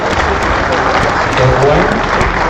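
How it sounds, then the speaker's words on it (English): Parents and students applauding presenters at a secondary school annual general meeting, a steady, loud wash of clapping from a large audience with voices mixed in. "I would request that we give our presenters a hand clap."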